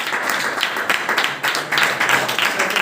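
An audience at a religious lecture series claps in welcome, bursts of applause rising and falling across a few seconds, fairly close and without speech.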